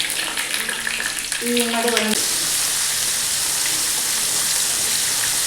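Fish coated in green masala sizzles in hot oil on a flat tawa, a steady, close, broadband crackle. A brief voice speaks over it partway through, and there is a short tonal clink near the start.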